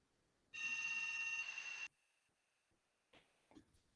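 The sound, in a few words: landline telephone ringing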